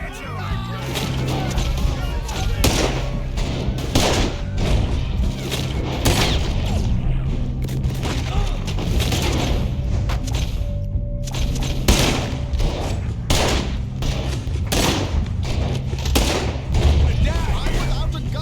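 Heavy gunfire in a Red Dead Redemption 2 shootout, a loud, nearly unbroken barrage of close and distant shots with booming impacts, while voices shout over the fighting.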